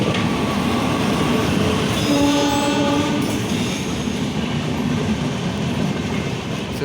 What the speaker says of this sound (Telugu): చూస్తున్నారు కదా ట్రైన్ వస్తుంది